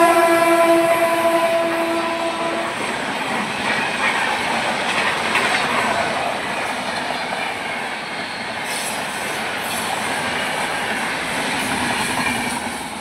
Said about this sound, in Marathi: पण एक्सप्रेस रेल्वे होती आणि ती रेल्वे एवढी फास्ट गेली